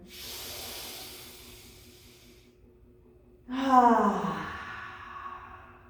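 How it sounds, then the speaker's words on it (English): During a yoga pranayama session, a slow breathy exhale is followed by a pause and then a louder, deeper breath with a hissing rush of air, close and unvoiced. "take a deep cleansing breath in through the nostrils. Open mouth, exhale."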